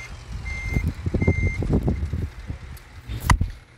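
A truck in the driving game Driver Jobs backs up, its reverse alarm beeping twice in steady tones over a loud, rumbling engine, followed by a sharp clank near the end.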